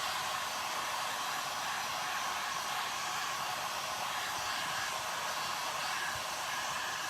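A hair dryer blowing on acrylic paint on a scrap-wood pumpkin, a steady, loud whooshing hiss running unbroken throughout with no talking.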